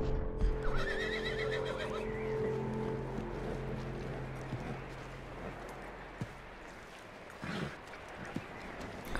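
A horse in the game Red Dead Redemption 2 gives a loud, shaky whinny at the start, followed by fainter hoof and movement sounds, with no talking.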